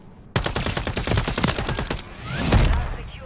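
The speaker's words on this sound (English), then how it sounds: "I put shots on his teammate." A burst of rapid automatic gunfire in a video game gunfight, a loud dense rattle of shots for about a second and a half followed by a rumbling echo and a second distant boom.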